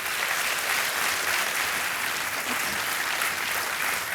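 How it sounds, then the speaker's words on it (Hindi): Studio audience applause on the KBC quiz show, a dense, sustained wash of clapping from a large crowd, loud and even throughout with no break. "तालियां बजती रहें इनके लिए"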